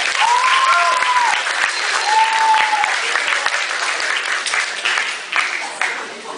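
A high school audience bursts into sustained applause, dense and close, with a couple of whistles rising over the clapping before it gradually tapers off.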